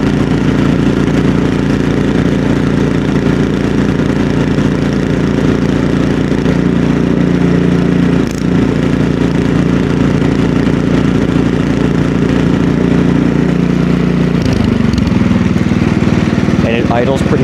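Ariens snowblower engine idling steadily after a carburetor repair, a loud, even, close running drone with no surging, shifting slightly in tone near the end.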